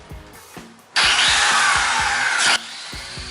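A drywall sanding machine whirs loudly for about a second and a half, then cuts off, with quieter scraping and tapping before and after.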